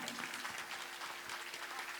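Faint, dense applause from an audience, a continuous wash of many hands clapping at a distance.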